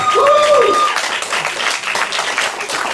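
An audience gives a round of applause for a performer on a performing-arts music show, a dense, fairly loud burst of clapping that softens slightly as it continues, with a brief sung or sustained tone at the start.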